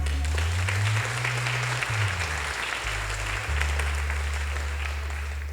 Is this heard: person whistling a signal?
no